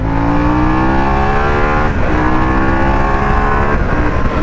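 A 2021 Harley-Davidson Pan America motorcycle accelerates hard in third gear, its loud, close engine note climbing steadily in pitch, dipping briefly at a shift, then rising again.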